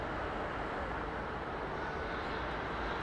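A steady, broad engine roar comes from a Turkish cargo freighter aircraft at foggy London Heathrow. It holds even and continuous with no talking.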